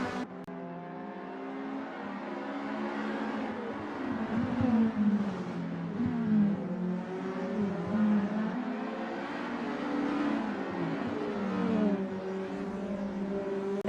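VW Polo GTi race cars in the SRA 2025 VW GTi Challenge drone steadily close by, engines rising and falling in pitch through gear changes for the whole stretch, with no talk.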